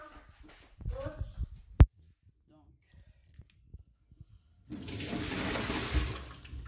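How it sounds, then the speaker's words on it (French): Washing water being poured off freshly rinsed potatoes, a sudden rushing gush near the end after talk and a single sharp knock. "On va jeter l'eau."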